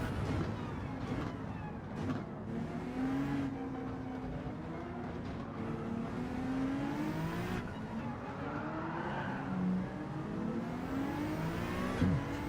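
Race car engines in a racing video game, with revving that rises and falls through gear changes and cars passing, steady and moderately loud.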